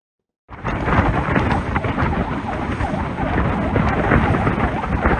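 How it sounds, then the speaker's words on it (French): Torrential night rain pours down hard and steady in Kinshasa. It begins abruptly and keeps up as a loud, dense roar with rumbling undertones. "la pluie torrentielle qui s'est abattue à Kinshasa"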